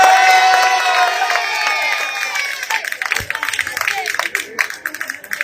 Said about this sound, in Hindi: ताली नहीं होगा, हौसला दीजिए।